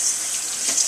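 Tap water runs steadily into a pot in a brief, close, constant splashing stream.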